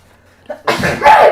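One loud, close human sneeze, a brief intake followed by a sharp explosive burst, heard alone without talk.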